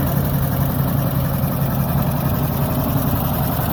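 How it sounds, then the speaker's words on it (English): An old John Deere 720 two-cylinder tractor idles steadily in a field while pulling a soil mover, its low, even engine throb continuing close and loud with no voices over it. "He's using his John Deere 720, which is an old 2-cylinder tractor"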